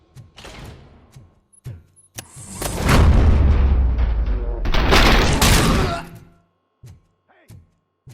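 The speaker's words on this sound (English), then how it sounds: "Am I hearing gunshots?" Gunfire from the video game Robocop: Rogue City: loud, dense bursts of shots and heavy booms spread over several seconds, with short clicks and voices before and after the barrage.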